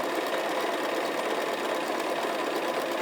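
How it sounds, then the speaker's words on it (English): A sewing machine stitches pieced quilt fabric right up to a pin, giving a steady, fast, close mechanical whir that runs unbroken throughout with no talking. "So here I'm going to stitch right up to that pin, slip it out"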